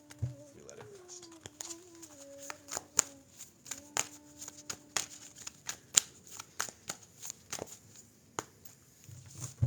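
A deck of tarot cards being cut and shuffled, close and soft, with quick papery riffles and taps scattered through the clip and a faint voice-like tone in the background.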